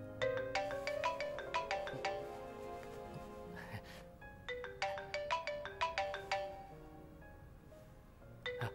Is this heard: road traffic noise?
no